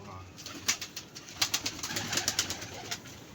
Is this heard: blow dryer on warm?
no